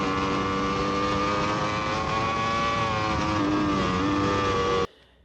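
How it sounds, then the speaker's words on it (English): A professional racing motorcycle accelerating hard downhill, its engine a loud, sustained high-revving howl with rising pitch that cuts off abruptly near the end. "I'm able to accelerate really hard down the hill"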